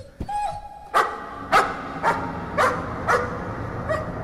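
Dog barking in the Layers of Fear horror video game, a run of six sharp, evenly spaced barks at moderate loudness against a low dark background hum, with no talking.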